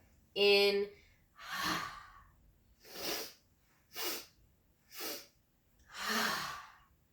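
Rhythmic yoga breath-of-joy exercise: a sharp nasal inhale burst followed by five forceful, breathy exhales and sniffs spaced about a second apart, close and clear with no talking.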